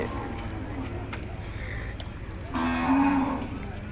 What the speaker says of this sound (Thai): นี่ครับวัว